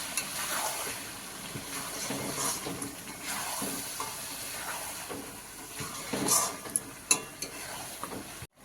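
Chicken with a spice paste being sautéed in a pan for a red chicken curry, a low steady sizzle and hiss with soft stirring scrapes and a few clinks, fairly quiet and close.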